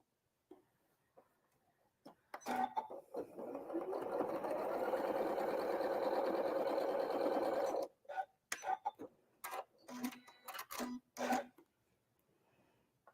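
A sewing machine runs steadily for about five seconds, stitching a quarter-inch seam along the bottom of half-square triangle pieces placed right sides together for a quilt block, bracketed by light handling clicks before and after.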